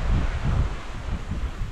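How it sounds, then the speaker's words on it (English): Steady wind gusts buffet the microphone beside the Essequibo River at a village with a sandy beach and mango trees, a loud, continuous low rumble with no speech. "Windy and nice today."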